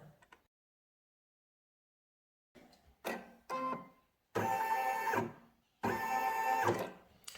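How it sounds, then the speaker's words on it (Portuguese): A home embroidery machine runs a tacking stitch through fabric and batting for a Christmas door hanger, starting and stopping in short bursts, then two longer whirring, buzzing runs close by after a stretch of silence. "Agora é só uma costura de fixação."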